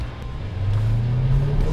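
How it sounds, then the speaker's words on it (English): A 2018 Jeep Cherokee Trackhawk with a Hellcat engine pulls off a curb under throttle, a deep engine rumble rising in pitch as it accelerates, close and fairly loud. "I just simply got off the curb and hit the gas pedal."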